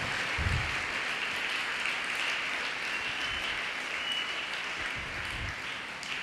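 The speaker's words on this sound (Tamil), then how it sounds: "அவங்களுக்கெல்லாம் ஒரு பலத்த கைத்தட்டல்" Sustained, dense applause for physical education teachers at the closing ceremony of a state-level CBSE schools boys' kabaddi tournament. The steady crowd clapping lasts the whole six seconds with no talk.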